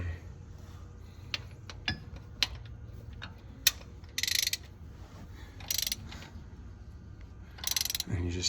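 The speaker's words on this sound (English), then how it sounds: "And you just tighten that down, and now what that's doing is putting thrust on that bearing." A socket wrench on a 1 1/8 nut ratchets while tightening a puller that draws out a CAT 3126E injector cup, giving scattered close clicks and short bursts of rapid ratcheting.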